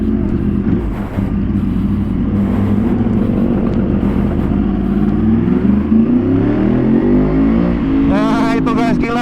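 A 2014 Yamaha R1 sport motorcycle with a full-system underbelly exhaust revs hard and climbs in pitch as it accelerates, with a rising whine near the end.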